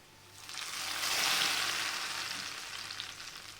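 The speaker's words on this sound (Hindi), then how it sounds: "इस तड़के को हम दाल में लगाते हैं" Hot garlic tempering for dal sizzles loudly as it hits the pot, a broad hissing fry that swells quickly and then holds steady, close and alone without talk.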